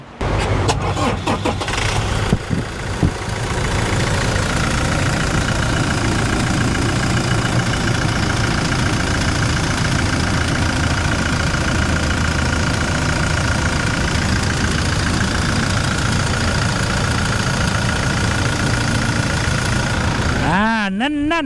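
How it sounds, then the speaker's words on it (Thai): A 2016 Toyota Fortuner 2.8V 4WD diesel starts up and settles into a loud, steady idle close by, with a low knocking rumble holding evenly for around twenty seconds, and a brief voice near the end. "ฟังเสียงเครื่องกัน"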